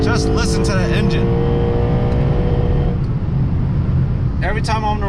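Lexus RC F with roughly 100,000 miles, its engine droning steadily while driving, a close, continuous hum with a brief lull midway, with someone talking over it at the start and end.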